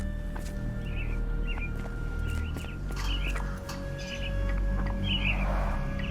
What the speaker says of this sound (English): Minor birds, if I'm not mistaken. Beautiful creatures. Sad that they're caged here.